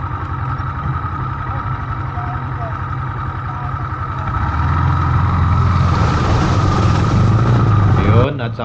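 A Sniper 155 motorcycle engine runs steadily while the bike crosses a river, the idle growing louder and rougher about halfway through with water-like noise mixed in, close and continuous.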